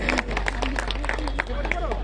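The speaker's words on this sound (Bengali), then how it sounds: "একটু হাততালি দাও, জোরে হাততালি দাও।" Audience clapping at a crowded carnival in Baharampur, steady rhythmic applause running under a loud host's voice and crowd noise throughout.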